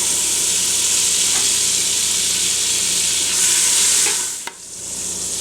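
Eight tablespoons of Earth Balance vegan butter melt in a pot with a loud, steady frying sizzle and hiss, briefly swelling before a single sharp clank near the end.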